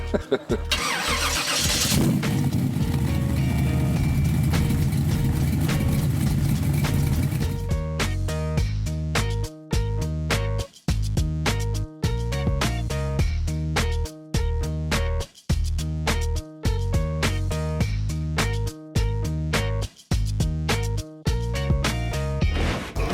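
A hot rod engine cranks and catches at a street rod event in Emporia, Kansas, then settles into a loud rumble as rhythmic music with a strong beat plays over it.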